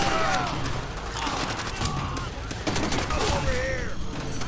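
Rapid pistol gunfire rattles through a war video game village-clearing fight, dense overlapping shots under a steady din, with a voice briefly heard amid the shooting.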